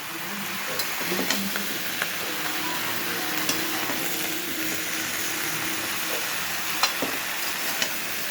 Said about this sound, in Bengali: এবার নেড়ে নিয়েছি ভালো করে, মশলাগুলো সবজির সঙ্গে মাখিয়ে নিয়েছি।